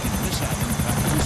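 A helicopter in GTA IV whirs nearby with rapid, steady rotor chopping and a low buzzing drone, loud for a brief moment.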